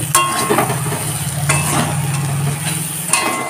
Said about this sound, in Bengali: এখন ভালো করে কষে নেব।